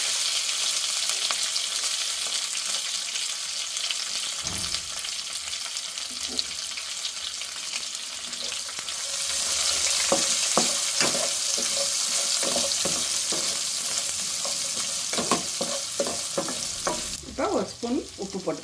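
Curry leaves and ground onion frying in a pan, a steady broadband sizzle that swells partway through, with scraping stirs and clinks near the end; no one talks.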